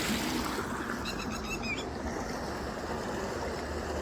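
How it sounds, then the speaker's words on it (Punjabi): Irrigation water from a motor-pumped channel flowing to village crops in the early morning, a steady, close rushing wash with a few faint bird calls over it and no talk. "ਦੇਖੋ ਪਾਣੀ ਚੱਲ ਰਿਹਾ"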